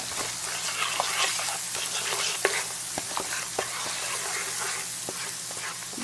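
Whole spices sizzle and crackle steadily in a hot pan of oil while cooking for chicken biryani, with frequent sharp pops and stirring scrapes over a continuous hiss, no talking.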